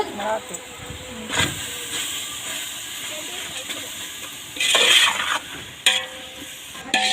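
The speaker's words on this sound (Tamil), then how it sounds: "கல்லுப்புக்கு போட்டு நல்லா வதக்கிக்கோங்க." Masala with rock salt sizzles and is stirred in a pot over a wood-fired stove for chicken dum biryani, a soft steady frying hiss broken by a few louder scraping and stirring bursts.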